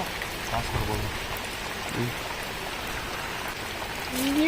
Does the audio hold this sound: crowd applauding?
no